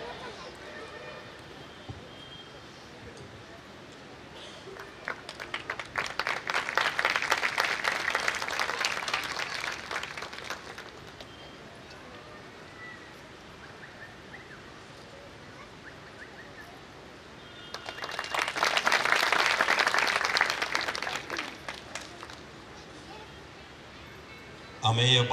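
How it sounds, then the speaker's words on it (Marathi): An audience at a devotional music concert breaks into two long bursts of loud clapping, each lasting several seconds, with an announcer speaking between and over them. "अमेय बाळ यांच्यासाठी जोरदार टाळ्या"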